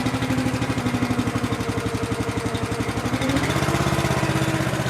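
A motor in a firewood woodyard runs at half throttle while warming up, a close, steady pulsing chug that shifts to a fuller, deeper tone partway through, with no talking.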